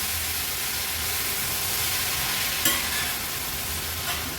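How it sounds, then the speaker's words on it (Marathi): Leafy greens and onions cooking in a pan over a medium flame make a steady, hissing sizzle with an occasional faint utensil tap, heard up close and uninterrupted, with nobody speaking. "भाजी व्यवस्थित कांद्यामध्ये मिक्स करून घ्यायची।"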